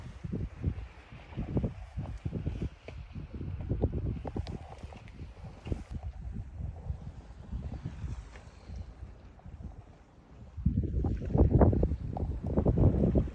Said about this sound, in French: la mer est magnifique, le calme. Écoutez, le bruit de l'eau